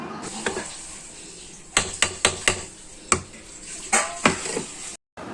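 A spoon knocks and scrapes against a pot while ground coconut paste is stirred into jackfruit erissery, giving a series of sharp, irregular clinks, several in quick succession, with a soft background hiss.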